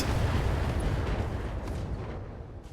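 Missile fire in the mech combat video game Battletech, heard as a dense, continuous barrage of booming launches and rumbling impacts, loud and close, fading slightly near the end.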